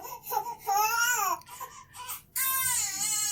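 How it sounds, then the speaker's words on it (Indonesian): A recording of a baby crying plays through a laptop speaker as background noise, with repeated wailing cries broken by short pauses and a long sustained wail at the end, loud and close. "Nah, ini teman-teman udah bisa dengar suara bayi menangisnya ya."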